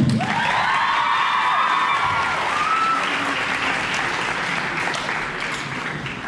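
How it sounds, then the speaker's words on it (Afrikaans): An audience at a talent evening concert applauds loudly, a dense sustained wash of clapping with some cheers and whoops that slowly tapers off. "Dames en heren, kom ons gee haar 'n groot hande klap."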